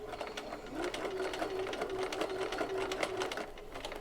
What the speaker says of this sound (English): stitch right up over top of the stitching you made when you first attached your piping